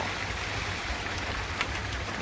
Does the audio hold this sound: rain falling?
yes